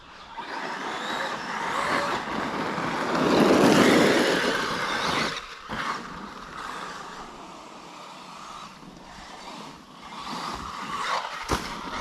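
Cars roll up to a roadside parking spot in a natural area, engines rumbling close and swelling then fading, with a softer vehicle passing later.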